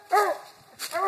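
A coonhound bays at a treed raccoon on a windy night outdoors, two short, loud barks separated by a brief pause.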